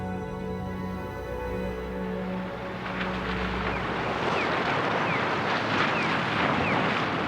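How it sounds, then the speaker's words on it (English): Waves surge and break against Arctic sea ice amid steady wind noise, a broad roaring wash that swells louder in the second half with scattered splashes. "The waves continue to hammer at the ice"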